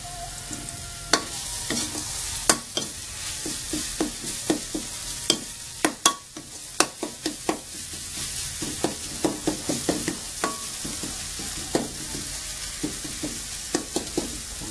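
Ingredients stir-fried in hot oil for a Thai chicken curry with toasted rice, a steady sizzle broken by frequent sharp scrapes and clanks of a utensil against the pan, close and fairly loud with no talking.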